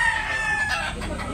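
A rooster crows at a gamefowl farm in Tabunok, Talisay, Cebu, a brief loud call with harmonic ringing over a noisy background of other fowl, and no voices.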